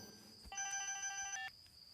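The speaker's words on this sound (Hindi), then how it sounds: "फोन बज रहा है।" A telephone rings once in a short electronic burst of stacked steady tones, loud and close, then stops, leaving a quiet background hum.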